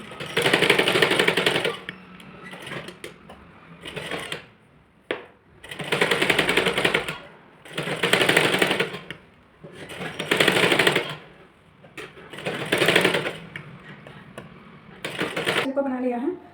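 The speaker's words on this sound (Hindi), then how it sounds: "अब हम इस ऊपर से कट सिलाई लगाएंगे।" A sewing machine stitching a blouse runs in loud, steady whirring bursts of one to two seconds, separated by short pauses, and sounds close up throughout.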